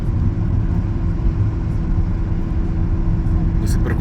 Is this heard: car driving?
yes